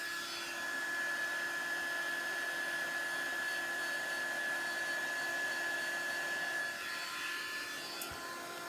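A hair dryer blows steadily to dry a chalkboard paint transfer. The airflow is a constant, faint whirring hum with a tonal whine, heard alone and without talk.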